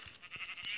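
Sheep bleating in the video game Minecraft, a short soft series of quick bleats at a low level in under a second.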